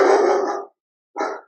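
A big German Shepherd barks indoors in the background, one long loud volley followed by a short pause and a second brief burst, with no talking.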